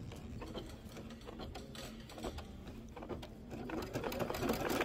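Embroidery sewing machine stitching a trapunto pineapple pouch project, a steady rapid mechanical chatter of needle strokes running continuously and growing slightly louder toward the end, with no voices.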